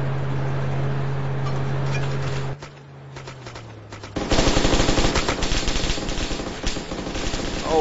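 Rapid automatic gunfire in an online shooter match breaks out after a steady engine-like hum cuts away, the dense loud bursts continuing close and sustained with no voices.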